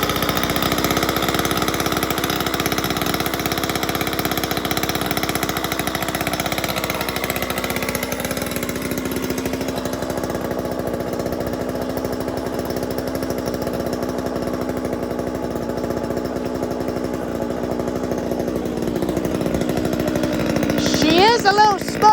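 A chainsaw running after a cold start on half choke, slightly smoky from too much oil, holds a steady buzzing two-stroke drone close by, then its pitch wavers and it revs near the end.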